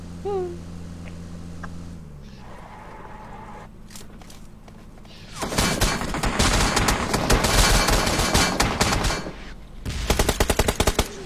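Quiet ambience in PUBG gives way to a dense burst of rapid Beryl rifle gunfire lasting several seconds, then a short sharp volley near the end.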